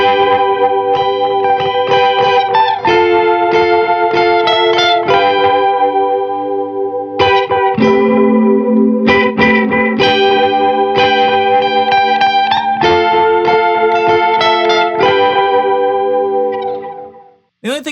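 Lo-fi electric guitar played through a Caroline Guitar Co. pedal with a dark chorus cranked all the way up: sustained, warbling chords and picked notes, thick and continuous, alone and loud, ending in a brief cutoff.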